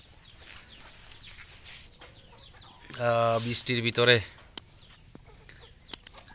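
Hill-breed jungle fowl hens cluck on a farm in rain, with a loud close burst of harmonic clucking mid-way over steady background patter, and a person speaking briefly.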